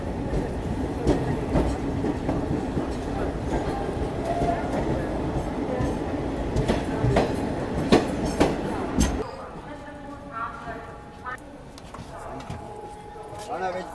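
Special passenger train from Delhi to Prayagraj rolling along, a steady rumble of wheels and carriages with rhythmic clatter, loud and close inside the coach before dropping quieter near the end, with voices talking over it.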